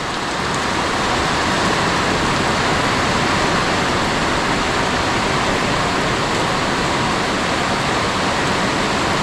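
Deep floodwater rushing through a muddy, slippery farm field, a dense, steady roar of churning water, loud and unbroken from start to end with no voices.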